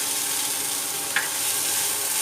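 Chopped vegetables, beans and carrots with ginger, fry in a hot pan for veg manchurian, giving a steady, even sizzle with one brief scrape partway through.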